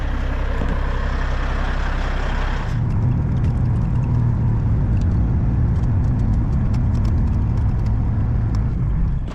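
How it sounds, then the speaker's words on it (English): A truck engine in a trucking video game starts up and settles into a steady, loud, low rumbling drone that runs on without any talk. "Back home, fired up the truck."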